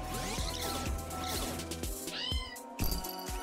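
Kitten meowing repeatedly in the video game There Is No Game, several clear cries with knocks and clatter mixed in amid steady game music.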